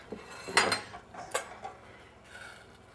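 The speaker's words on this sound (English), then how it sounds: "I'm straining so I don't get my sort of peppercorns or my onion" Hollandaise sauce mixture is strained through a sieve with clinks and knocks of metal utensils and a pot, a few sharp close taps and scrapes over a quiet background.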